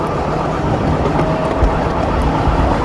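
Small miniature railway locomotive at Ropley running fast, a close, steady broadband rumble with rattling wheel noise and a faint whine, continuous and loud throughout.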